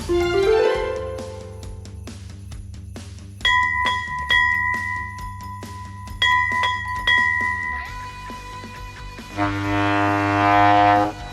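Three different bells are rung one after another, each strike ringing out clearly and decaying, with bright sustained tones and a final cluster of shimmering chimes.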